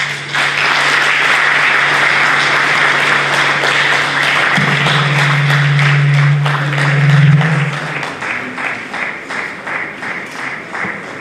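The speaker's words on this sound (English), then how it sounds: "That applause should be richer." An audience at a political party event on professionals in nation building gives sustained applause, loud and dense, with a low steady hum underneath; the clapping thins into scattered claps near the end.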